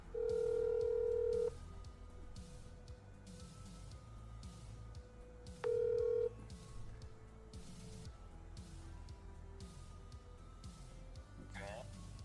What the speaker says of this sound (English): I'm gonna see if I can get him on the phone real quick